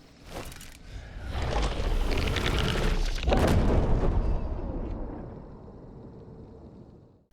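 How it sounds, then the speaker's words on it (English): A big dynamite bundle blows up in Hunt: Showdown, a loud rolling boom with crackling debris that swells, holds for a few seconds, then fades into a long rumbling tail. "big dynamite bundles, dark dynamite satchels"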